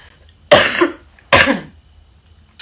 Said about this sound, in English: I'm going to clear my throat.